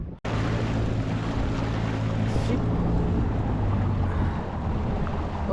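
Old Sea-Doo personal watercraft running out on the water among the 30,000 Islands, a steady loud engine drone with heavy wind buffeting over the microphone throughout.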